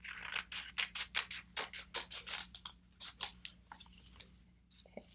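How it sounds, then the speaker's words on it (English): Scissors cut through paper in a brisk series of about twenty sharp snips, close and crisp, with a short pause and a few softer handling rustles near the end. "I just cut the paper down, again, leaving a little bit of an overhang"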